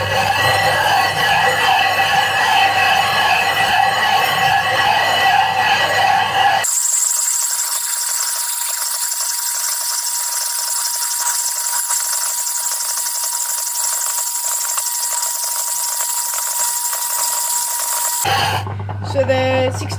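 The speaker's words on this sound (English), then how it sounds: "The grit obviously grinds down very fast with this metal tool" A telescope mirror is ground with 60 grit abrasive under a metal tool, making a loud, continuous gritty scraping that shifts in tone partway through as the strokes go on.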